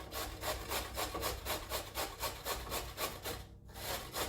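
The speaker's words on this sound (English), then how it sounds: "we use the thick grate on your grater" A very large carrot is rubbed down the coarse side of a box grater in a steady run of rasping strokes, each scrape close and even in rhythm, with a brief pause near the end.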